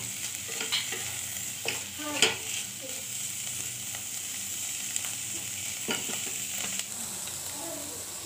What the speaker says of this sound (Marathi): सगळं एकजीव करणे, 2 ते 3 मिनिटात होऊन जाते आपली फुलवडची भाजी